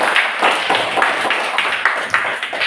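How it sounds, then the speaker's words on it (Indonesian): An audience claps hands in a quick, steady rhythm, many close claps blending into dense applause for a few seconds. "mari tepuk tangan dulu ya"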